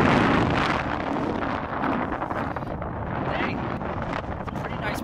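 Strong wind buffets the microphone on Stokksnes beach in Iceland, a loud, continuous broadband roar with gusting surges throughout.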